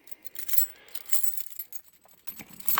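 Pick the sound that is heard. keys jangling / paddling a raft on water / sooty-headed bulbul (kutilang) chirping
keys jangling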